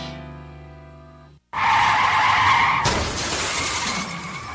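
Loud tires screech in a long skid, then a harsh crunching impact with broken-glass noise rings out, fading into debris settling.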